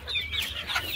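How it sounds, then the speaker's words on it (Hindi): Several desi chickens, roosters and hens, clucking close by on a poultry farm, a quick run of short, overlapping clucks. "इसमें भी मुर्गे जो है ना बहुत हैं, मुर्गियाँ भी बराबर की हैं।"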